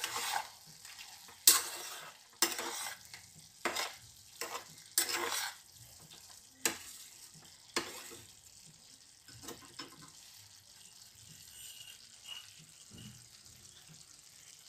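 Crushed lentil dumplings stirred into vegetables frying in a pan, with a soft sizzle underneath and a series of sharp spatula scrapes and knocks against the pan, spaced irregularly and fading later.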